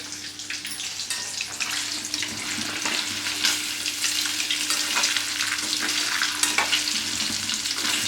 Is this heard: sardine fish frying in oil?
yes